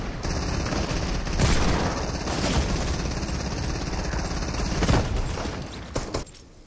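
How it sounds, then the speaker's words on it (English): Hand cannon gunfire in the Fortnite video game, a dense volley of rapid shots and booming bursts that runs continuously at moderate loudness, then cuts off near the end. "Wow, these hand cannons really got a punch at it."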